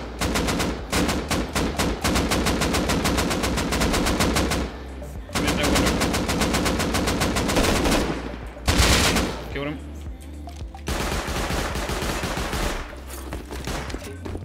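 Automatic gunfire from the video game Rust, set in an online raid, rattles in long rapid bursts separated by short gaps, loud and close, with players talking over some of the shooting.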